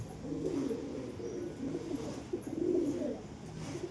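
Several pigeons wandering around their loft coo softly in low, throaty, overlapping bursts that swell and fade across the stretch, without any voices.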